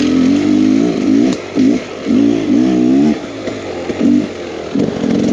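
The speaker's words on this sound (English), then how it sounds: "We also did just change the float height on the bike, and man, it runs so much better" A 2023 Beta X Trainer 300 two-stroke street-legal dirt bike climbing a big hill in a riverbed, its engine buzzing loudly and close with repeated revving surges and brief dips as the throttle opens and closes.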